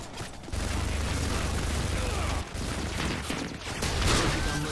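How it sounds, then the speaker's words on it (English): Rapid automatic fire from a sentry gun in Modern Warfare 2 on the Scrapyard map, a dense sustained burst that cuts off briefly and resumes, heard close amid other game noise. "Man, that's another sentry gun."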